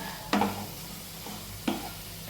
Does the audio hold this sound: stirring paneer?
yes